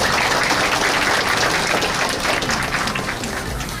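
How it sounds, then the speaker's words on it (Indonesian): Audience applause at a kampung inauguration ceremony in Jakarta: a dense, steady wash of many hands clapping. It holds strong throughout and eases slightly toward the end, with no voices over it. "Boleh kita beri tepuk tangan untuk mereka."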